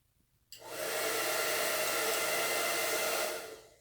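A professional salon hair dryer on its cool setting switches on with a click and blows a steady, loud rushing whoosh for about three seconds, then winds down.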